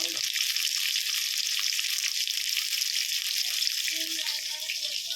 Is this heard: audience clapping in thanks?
no